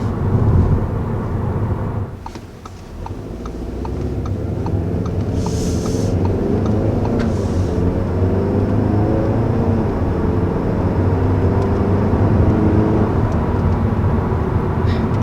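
A 2020 Audi A3 accelerates on the road, giving a continuous loud engine drone whose pitch climbs steadily, heard from the cabin, with a brief dip early on and no talking.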